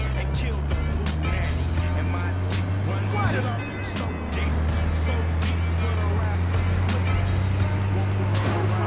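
A car in GTA San Andreas drives with a steady low engine drone and road rumble throughout, the game's vehicle sound running continuously and fairly loud with small bumps and scrapes layered on top.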